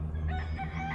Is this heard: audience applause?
no